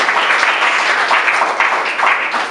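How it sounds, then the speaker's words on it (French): A room full of people applauds at an official ceremony in French, dense continuous clapping, loud and close, with no speech over it. "Applaudissements, je vous prie."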